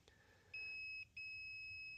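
A multimeter's continuity test gives a steady high-pitched electronic beep for about half a second, stops briefly, then resumes and holds continuously, clear and close with no talking.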